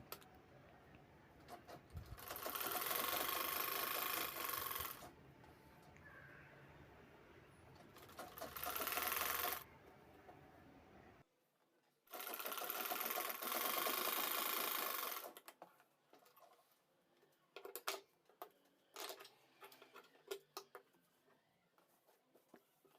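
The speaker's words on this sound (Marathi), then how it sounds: "मार्जिन बरोबर तेवढंच ठेवून शिलाई घ्यायची आहे मागे पुढे करायचं नाही आहे" A sewing machine stitches an old saree border onto a handbag in three sustained whirring runs, close and fairly loud, separated by pauses filled with small handling clicks and fabric rustles.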